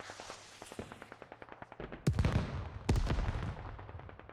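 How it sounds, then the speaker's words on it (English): Rocket barrage and gunfire in a military video game set in Pakistani mountains: a rapid string of sharp reports followed by two heavy booming impacts with rumbling tails, moderately distant. "There's a rocket barrage now coming in as well."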